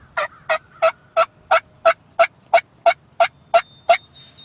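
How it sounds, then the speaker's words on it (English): Wild turkey hen calls, a steady series of about eleven evenly spaced, sharp yelping notes, loud and close with nothing else beneath them. "gave just a few hen calls"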